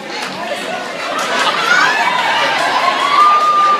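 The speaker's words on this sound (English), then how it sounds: "can you clap for yourself?" Stand-up comedy audience breaking into a rising swell of crowd noise, with cheering and scattered shouts building over about four seconds.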